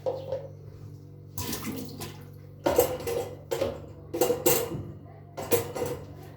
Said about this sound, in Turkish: ilk önce 2 litre sularımızı döküyoruz.